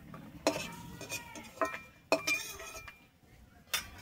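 Fried lentil dumplings lifted out of hot oil with a metal utensil, a few distinct clinks and scrapes against the pan over a faint background sizzle.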